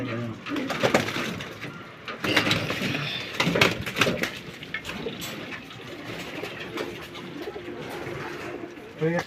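Pigeons in a pigeon fancier's loft coo in low, throaty bursts under loud, clattering background noise, with voices talking nearby.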